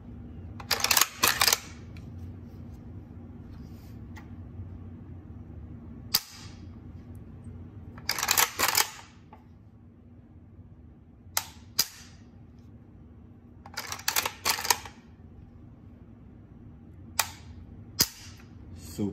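Dry-fire trigger pulls on an AK-47 fitted with an ALG AKT trigger: a few sharp, crisp metallic clicks in clusters, close and distinct against a quiet background hum.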